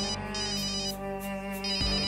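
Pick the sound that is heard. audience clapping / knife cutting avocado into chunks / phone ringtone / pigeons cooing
phone ringtone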